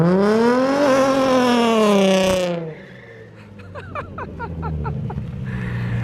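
Nissan 350Z Nismo engine revving hard while drifting, a loud rising rasp that cuts off abruptly partway through, followed by people talking over a quieter idle.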